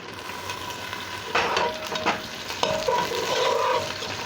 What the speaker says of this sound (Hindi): अब इसमें मैं ये प्याज की कटिंग कर ली है, ये डाल दूँगी। सबसे पहले प्याज जाएगा